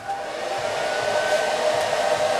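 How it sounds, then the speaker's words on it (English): A blow dryer fitted with a hooded bonnet attachment runs continuously, producing a steady, close, whooshing hum with a slight tonal whine. "Turn on your blow dryer."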